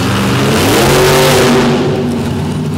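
Race truck engine at an all-star series event in Davie, Florida, revving hard in a loud, sustained blip of throttle after the victory, with the pitch climbing and then easing off, close and alone.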